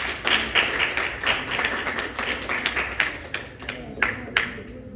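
Crowd applause at a poetry recital in Rajim, Chhattisgarh, a steady wash of many hands clapping close and loud for about five seconds, with a few sharper individual claps standing out near the end.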